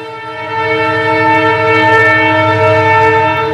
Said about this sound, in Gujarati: ટ્રેન નીકળી ગયું